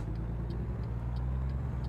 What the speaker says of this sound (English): Oh, there's a truck coming.